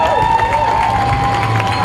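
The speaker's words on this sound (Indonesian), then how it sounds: "Kasih tepuk tangan dong." Crowd at an outdoor youth concert in a field, clapping and cheering together with shouts and a sustained tonal hum, loud and continuous throughout.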